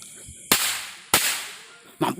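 Three sharp firecracker bangs go off one after another outdoors, each loud crack decaying quickly, with faint background noise in between.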